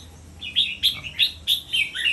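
A caged songbird chirps in a quick series of about six bright, sharp calls, close and clear against a quiet background.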